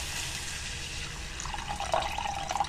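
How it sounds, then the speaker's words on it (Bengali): A little water poured into a pan of egg curry, a close pouring splash that rises into a bright gurgling trickle toward the end, with no talk. "এবার আমি দিয়ে দেবো হচ্ছে সামান্য জল।"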